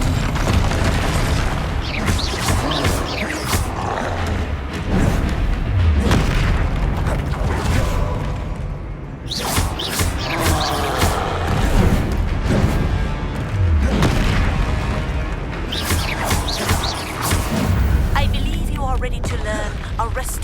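Spell explosions from Repulsor and Confringo cast in the Hogwarts Legacy video game, a run of loud booming blasts and bursts repeating across the clip, dense and close, with a short lull midway.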